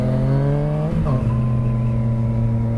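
Engine of a Yamaha FZ-09 motorcycle fitted with an aftermarket pipe on a demo-day test ride, a steady loud drone that briefly drops as the rider shifts gears, then pulls on up the revs.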